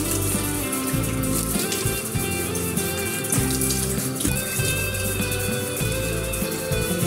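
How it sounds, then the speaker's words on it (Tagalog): Steady running water from a tap splashes continuously throughout, loud and close, with brief shifts as hands move through the flow while washing the face. No talking. "Naghilamos na tayo guys."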